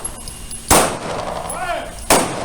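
Two pistol gunshots on a firearms training range, sharp loud cracks about a second and a half apart, with a faint voice between them.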